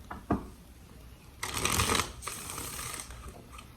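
Tarot cards are shuffled with a quick riffle, a brief tap, then a longer flurry of fluttering card noise, close and fairly quiet.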